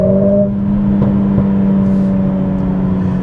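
A Mercedes-AMG CLA45 S fitted with a new aftermarket exhaust drives along with a loud, steady engine drone, holding a low humming tone with slight rises in pitch and no voices.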